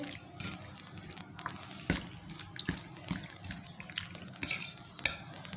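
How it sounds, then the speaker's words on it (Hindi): Chicken is stirred with ketchup and other ingredients in a bowl, giving soft wet squelching and a few sharp clinks of a spoon against the bowl, quiet and close. "इसको भी अच्छी तरीके से इसमें मिक्स कर लेंगे"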